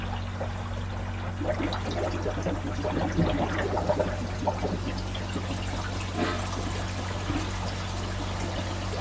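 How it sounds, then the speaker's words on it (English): Water pours and trickles steadily through the pipes and chamber of a reef aquarium sump, a continuous splashing flow over a low constant hum. "we're getting some good flow through the sump"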